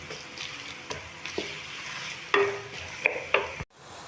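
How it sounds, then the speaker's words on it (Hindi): Chopped onions fry in a pan on the way to golden for dal chawal, a soft steady sizzle broken by a few clicks and scrapes of stirring, close by, with no voices. "अब मैं इन प्याज़ों को हल्का सा गोल्डन करूँगी।"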